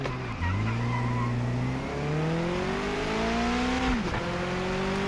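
Race car engine in the video game Project Motor Racing, heard from cockpit view, revving up steadily through rising gear pitches with a brief drop near the end, loud and continuous, with no talk.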